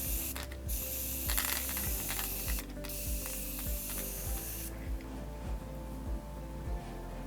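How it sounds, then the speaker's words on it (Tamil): Gold spray paint hisses onto a coconut shell craft piece in bursts of broad, airy spray with brief pauses, alongside a repeating mechanical clicking, then the spray stops and only the clicking goes on. "பார்த்திங்கன்னா இந்த மாதிரி கோல்டு ஸ்ப்ரேவை வந்து இந்த மாதிரி கொடுத்துக்கலாம்."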